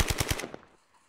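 Gunfire in the Roblox game Zombie Dash: a quick burst of about four rapid, close, punchy shots, then a short fading tail into quiet.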